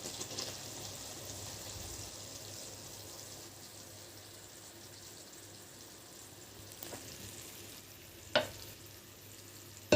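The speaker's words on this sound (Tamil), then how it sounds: "கிண்டிகிட்டே இருக்கணும், கைவிடாமல் கிண்டணும்." A Mysore pak mixture sizzles and bubbles in ghee while being stirred constantly, a continuous close frying hiss with faint scraping and one sharp clink of the utensil near the end.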